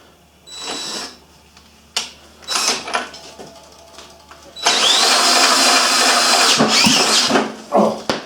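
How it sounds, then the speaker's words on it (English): An electric drill is used to crank a small diesel engine, whirring in several short bursts, then one longer sustained spin with a strained, uneven tone near the end. "I don't expect my drill to be able to do much, but let's try it anyways, just for the fun of it."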